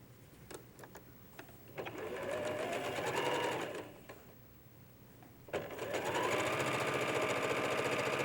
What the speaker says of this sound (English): And we'll just sew this here.